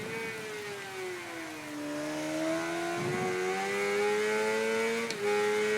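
A 600cc sport bike engine in Ride 3 drones at high revs, its pitch dipping and then climbing steadily as it accelerates flat out through a right-hand kink, with a brief gear-change blip midway.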